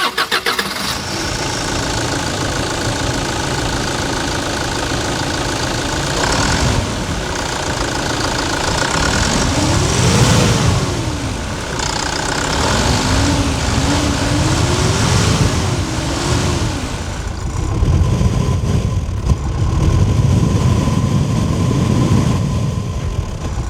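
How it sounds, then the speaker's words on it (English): A Hyundai Terracan SUV's diesel engine idles steadily with a deep, continuous rumble and a few louder revs rising and falling, close by with no talking. "the grunt that this diesel engine has"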